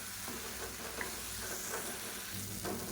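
Quiet sizzling of spices with chili powder and turmeric in a pan, occasional stirring scrapes, a steady frying hiss and no talking.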